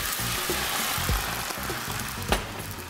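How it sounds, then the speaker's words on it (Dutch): Spring onions fry in a pan before a splash of wine goes in, giving a steady close sizzle with a few sharper crackles and hisses rising over it. "in dezelfde pan ga ik nu de bosui eventjes bakken en afblussen met een scheutje wijn"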